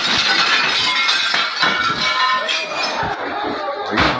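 Glass being smashed during a chaotic arrest scene, bright crunching and shattering bursts repeating over several seconds amid shouting voices and crowd noise.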